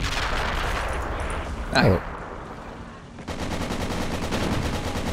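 Turret gunfire in the war strategy game Men of War: Assault Squad 2, a steady rattle of rapid shots with a brief louder burst, while a man gives a short exclamation.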